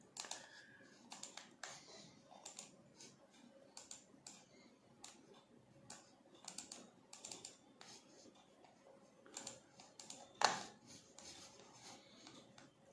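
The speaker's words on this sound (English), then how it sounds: "So you can type your word processing on the phone using the Bluetooth keyboard and mouse." Quiet clicking of typing on a Bluetooth keyboard paired with a Tecno Spark 7 Pro phone, steady irregular keystrokes up close, with one louder knock near the end and no talking.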